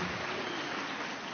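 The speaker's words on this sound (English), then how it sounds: "We better give him a better round of applause." Brief, even round of applause from the crowd at a Benedictine monks' silver jubilee celebration, fairly quiet and continuous, with no voices over it.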